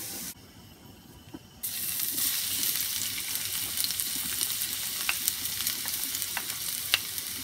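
Garlic hits hot oil for Thai kra-phow beef. A quiet pan gives way to a sudden loud, steady sizzle with crackles and pops, close up and with no talking.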